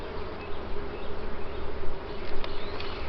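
A steady, close buzz from a mass of honeybees in an open hive during varroa mite treatment, continuous and dense with no voices.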